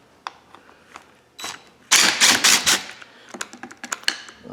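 A ratchet on a very long extension unbolts the wiper motor of a Honda Accord, giving rapid close clicking in short bursts, with one louder, denser stretch of ratcheting in the middle.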